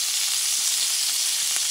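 Pork shoulder frying in a pan, a steady, loud, close hiss of sizzling fat with no breaks.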